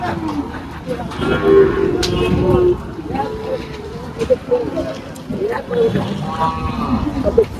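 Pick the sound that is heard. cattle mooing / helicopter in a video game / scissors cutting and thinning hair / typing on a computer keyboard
cattle mooing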